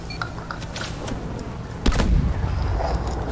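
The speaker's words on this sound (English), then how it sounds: "Grenade!" A grenade explodes in the Call of Duty: Advanced Warfare training campaign, arriving as a sudden low boom that rumbles on after scattered clicks and game noise, with no talking.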